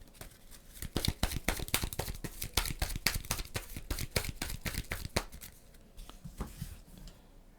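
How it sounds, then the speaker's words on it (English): Playing cards being riffled and shuffled during a Marvel Champions card game, a rapid run of crisp close snaps and flutters that tapers off toward the end, with no talking. "We're going to shuffle something back in."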